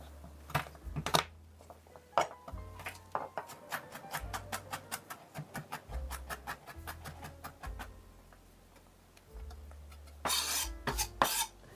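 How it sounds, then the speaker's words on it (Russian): Knife chopping garlic into medium pieces on a board while preparing hake with a creamy garlic sauce, giving a series of close, fairly steady taps and clicks with brief pauses and a louder scrape near the end. "Средними кусочками порежу чеснок."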